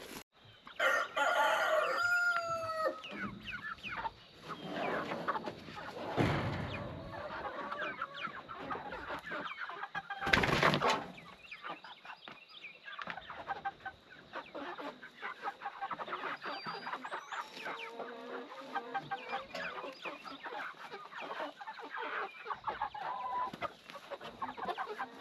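Meat chickens cluck and a rooster crows near the start, followed by ongoing clucking and scratchy rustling at close range, with a brief loud burst midway.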